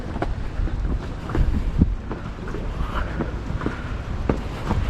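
Steady wind gusting and rumbling across an outdoor microphone at an open seaside spot on Jeju Island, continuous and fairly loud with no voices.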